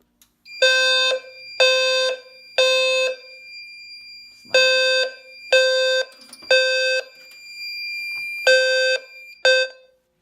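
A Fire-Lite MS-4 fire alarm system's low-frequency sounder, triggered from a BG12LX pull station, blares in repeated loud tonal bursts, about one per second in groups of three, with short gaps between groups.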